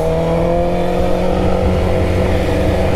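A BMW S1000RR sport motorcycle runs with a loud, steady engine drone and a sustained low rumble throughout, close by and with no voices.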